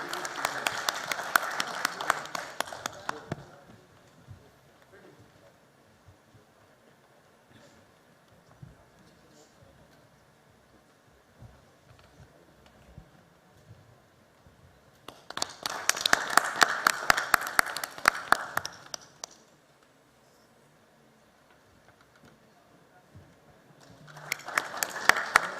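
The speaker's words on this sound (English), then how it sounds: "Please give him a huge round of applause, everyone." Bursts of audience applause at a forest service wildlife conservation awards ceremony honoring a crime control officer, loud clapping in about three stretches separated by quieter gaps with low murmur.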